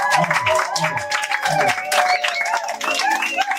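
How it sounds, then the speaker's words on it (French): A church congregation applauds continuously, with steady clapping mixed with cheering voices and a preacher's singing speech over the top. "On applaudit le Seigneur"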